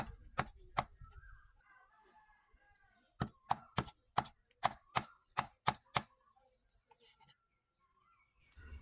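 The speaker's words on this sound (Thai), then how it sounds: "สับผักกาดดองของเราให้เป็นชิ้นพอดีคำนะครับ" Knife chopping pickled mustard greens on a board for Thai braised pork leg soup: a few sharp chops, then a quick run of about eight evenly spaced close, loud chops, with faint background chirps.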